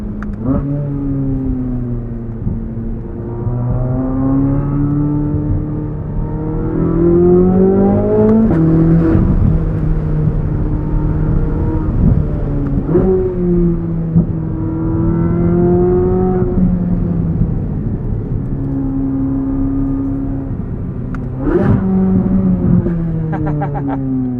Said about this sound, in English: We're going to go into manual mode. Firing off shifts there.